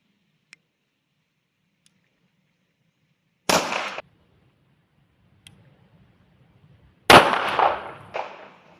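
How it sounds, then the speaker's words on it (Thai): Two sharp pistol shots from a CZ 75 Compact 9 mm fired double-action with the left hand at a practice range, spaced a few seconds apart, each followed by a short echoing tail, with quiet clicks in between. "ยิงดับเบิลด้วยมือซ้ายนะครับ"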